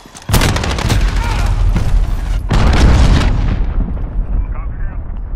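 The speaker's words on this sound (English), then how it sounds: "cruise missile away." A cruise missile strike in Call of Duty: Modern Warfare lands with two loud, booming explosions close together, each rolling out into a long rumbling decay.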